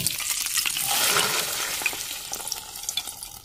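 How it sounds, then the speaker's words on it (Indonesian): Shrimp paste (terasi) frying in a pan of oil for sambal terasi, a close, steady crackling sizzle that swells midway and then settles, with occasional stirring scrapes and no voices. "aku mau tinggal untuk goreng terasi"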